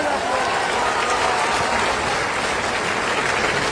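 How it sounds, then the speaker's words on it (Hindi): Loud, dense crowd applause at a political party gathering, sustained clapping from many people with no break, close and filling the space. "जोरदार ताली बजाएगा।"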